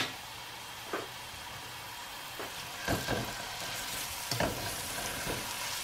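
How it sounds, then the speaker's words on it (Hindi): A large chopped onion fries in a pan over a high gas flame, giving a steady close sizzle broken by a few soft clunks and scrapes as it is stirred. "अब मैं एक बड़ा प्याज डालने लगी हूँ। इसको हम फ्राई करेंगे थोड़ा सा।"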